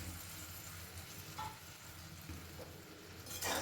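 Fried potatoes going into a pan of simmering dum aloo masala and being stirred, a faint steady sizzle with soft scraping and a louder rustle near the end.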